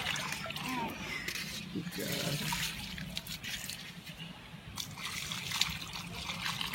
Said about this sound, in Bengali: এখন রাহি জল দিচ্ছে গাছে, দেখো।